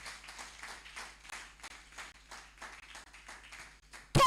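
Congregation in a church service clapping in steady rhythmic bursts, a broad continuous patter of many hands fairly close, ending with a sudden loud burst.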